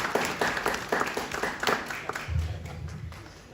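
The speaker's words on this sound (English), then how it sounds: "Please give him a round of applause." Applause from a panel-discussion audience in Leicester welcoming the event's creator onto the stage, a patchy scatter of claps that thins and fades over a few seconds with a low hum entering late.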